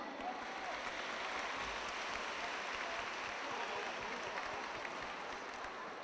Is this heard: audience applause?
yes